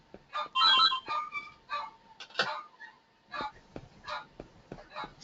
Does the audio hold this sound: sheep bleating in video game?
no